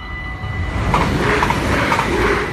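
A train passes at Maasbracht, its steady rumble swelling as the cars roll by, with rhythmic clacking wheel noise and brief metallic squeals over the continuous rolling roar.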